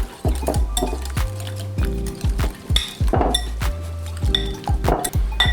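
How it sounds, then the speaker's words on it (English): A whisk beating salad dressing with fresh cracked black pepper and salt in a bowl, producing quick, rhythmic clinks and taps at close range. "Fresh cracked black pepper. Salt. I'm gonna give all of that a whisk."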